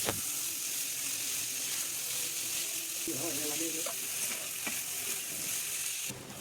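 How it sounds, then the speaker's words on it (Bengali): Baim eel fish sizzling steadily in hot oil with salt and spices, a constant frying hiss close by with a few soft stirring scrapes partway through. "এখন আমি এর ভিতরে দিয়ে দিব বাইম মাছগুলো। মাছ দেওয়ার পরে এবার মাছগুলোকে খুব সুন্দরভাবে মশলার সাথে মিশিয়ে নেব।"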